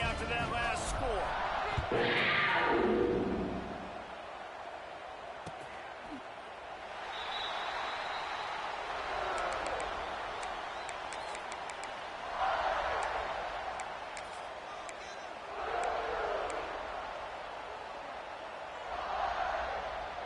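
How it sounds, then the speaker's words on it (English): Football stadium crowd buzzing after a touchdown, a low distant murmur rising and falling in swells beneath a play-by-play commentator's voice. "this crowd is buzzing after that last score"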